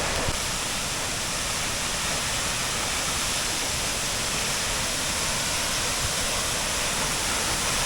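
Steinsdal waterfall in Norway roars as a loud, unbroken wash of falling water, dense and steady from start to finish with no voices over it.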